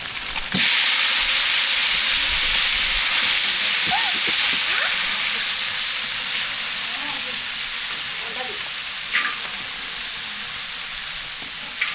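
Mustard seeds hit hot oil for sambar tempering, setting off a sudden loud sizzle that holds steady and slowly fades, with faint pops and clinks, close up and no talking.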